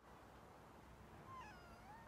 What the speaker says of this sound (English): she's meowing for help